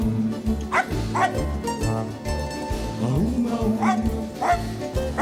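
Barking dog interrupting a live orchestra performance on a theatre stage: a string of sharp yips and barks rises over steady rhythmic music, with occasional voices.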